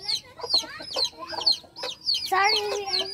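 Baby chicks on a farm cheep in rapid, high, repeated peeps, close and fairly loud, several calls overlapping in quick succession with clucking tones mixed in.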